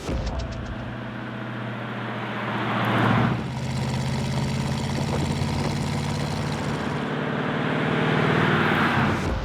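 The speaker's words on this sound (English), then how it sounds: "This car looks, feels, and sounds original," A 1930s Ford V8 car engine runs with a steady, close mechanical drone, its low rumble swelling briefly around the middle before settling back to an even hum.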